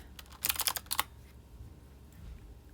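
A burst of quick, close computer mouse clicks, several in rapid succession, comes while editing a funeral invitation card template, then fades to quiet room tone.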